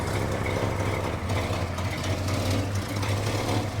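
A classic Pontiac car engine runs at a low, steady idle at an outdoor car show in Pigeon Forge, a loud, continuous deep rumble close by with no talking.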